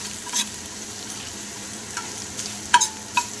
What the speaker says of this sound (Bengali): রসুনটা ভালো করে ভাজা হয়ে গেছে